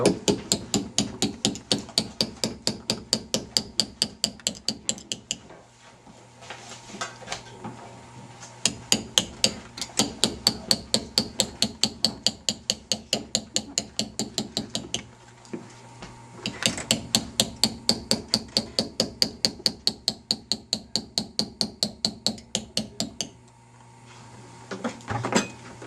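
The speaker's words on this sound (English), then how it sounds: "So again with a flat chisel and remove material." A flat chisel is struck repeatedly with a hammer to shape a leaf, giving rapid, crisp metallic taps in long even runs separated by brief pauses, close and clear with no talking.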